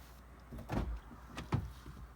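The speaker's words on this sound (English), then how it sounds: "So just open the door" A car door on a 2018 Honda Accord is opened, giving a couple of soft, close thuds and clicks from the latch and panel in a quiet garage setting.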